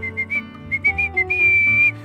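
A bright whistled tune: several short chirpy notes, then a long held note, loud and close with no talking.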